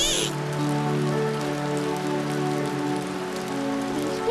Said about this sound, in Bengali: বৃষ্টি বাইরে গেছে।